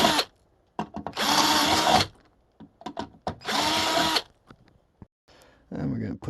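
A power drill widens screw holes during an electric skateboard wheel install, running in two firm bursts of about a second each with short whirs and clicks between, close by, and a person speaks briefly near the end.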